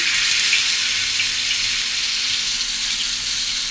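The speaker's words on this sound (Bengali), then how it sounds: "তেলটা আমি গরম করে নিয়েছি এখন এর মধ্যে আমি শিক কাবাবের স্টিকগুলো দিয়ে দিচ্ছি" Sheek kebab sticks frying in hot oil in a pan, a loud, steady, close sizzle that crackles continuously with no talking.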